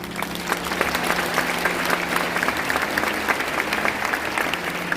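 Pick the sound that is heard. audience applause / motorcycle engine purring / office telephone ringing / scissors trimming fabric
audience applause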